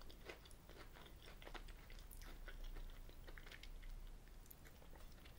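Crunchy Cadbury Oreo Bites with biscuit pieces are chewed close to the mic, giving quiet, steady crunching and munching with no talk.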